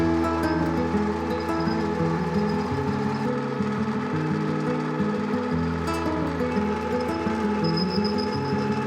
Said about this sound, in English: the stanchion bases all needed to be machined flat after being welded